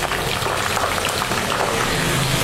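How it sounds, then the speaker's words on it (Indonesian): Steady, dense sizzle of eggplant frying in hot oil, a continuous crackling hiss close by with no voices. "Minyaknya sudah panas, kita mau goreng terongnya."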